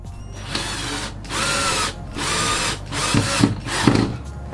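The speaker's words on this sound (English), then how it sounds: "So I'm going to drill some pilot holes." A power drill whirs in several bursts of about a second each while boring pilot holes, separated by brief pauses, close and fairly loud, with faint clicks near the end.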